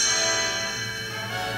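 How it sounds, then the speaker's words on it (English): Chimes from a Disneyland read-along record of Pete's Dragon ring out alone as a signal to turn the page, a bright sustained bell tone with long overlapping harmonics that fades slowly. "You will know it is time to turn the page when you hear the chimes ring like"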